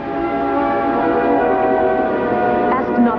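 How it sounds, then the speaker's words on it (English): A bell tolls in a cartoon, a single loud, sustained ringing tone that hums steadily for a few seconds. "Ask not for whom the bell tolls."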